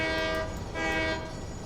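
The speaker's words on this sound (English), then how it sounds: "I have to blow the horn." A train horn in the video game Satisfactory sounds in two sustained, harmonically rich blasts with a short dip between them, loud and close with a faint rumble beneath.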